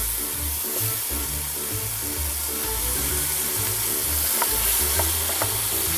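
Tomatoes and parsley sizzling in an oily pan for Italian mussel soup, a steady close frying hiss with soft stirring scrapes and a low rumbling hum underneath, no talking.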